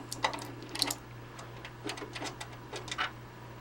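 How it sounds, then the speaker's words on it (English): A flathead screwdriver turns out the bottom screw of a small device, giving quiet, irregular close-up clicks and scrapes over a steady low hum, with no talking. "we're going to grab our flathead screwdriver again and we're going to unscrew"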